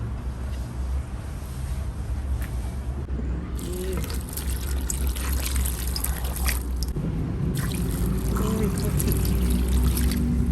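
Water poured into a rice cooker pot holding washed jackfruit in a home kitchen, a steady trickling splash with a brighter, louder pour toward the end, over a low background hum.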